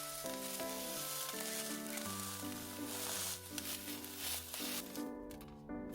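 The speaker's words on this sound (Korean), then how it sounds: "기름을 두르지 않은 두툼한 팬에 가지를 넓게 펴서 구워주시는데요" Eggplant slices roast in a thick, dry, unoiled pan over low heat, giving a soft, steady sizzle that runs the whole time beneath louder background music.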